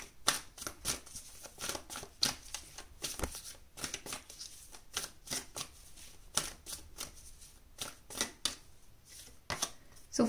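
Tarot cards being shuffled and pulled by hand, a run of quick crisp riffles and slaps in irregular bursts, close and fairly quiet, with no talking.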